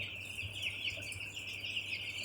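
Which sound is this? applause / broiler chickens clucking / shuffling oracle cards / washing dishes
broiler chickens clucking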